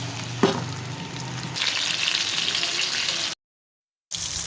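Small fish frying in mustard oil in a wok, a steady loud sizzle with a brief stirring clatter early on, then a sudden cut to silence before the sizzling resumes.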